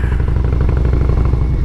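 Motorcycle fitted with a Wood 22XE cam and Tab Performance exhaust, a loud, deep, continuous engine rumble with a rapid lumpy pulse, close and steady without pause.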